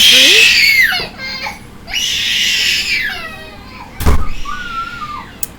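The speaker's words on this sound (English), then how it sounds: "I apologize for the screaming." An infant screams and wails close by in several long, rising cries, with a sharp bang like a door partway through.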